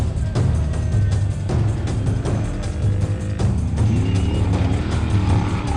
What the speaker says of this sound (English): Listen to that beautiful V8 of that PHB Bat.